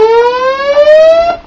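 A steady synthesized siren tone made in Audacity, loud and sustained, slowly rising in pitch across its length with a bright buzzy edge, no voices.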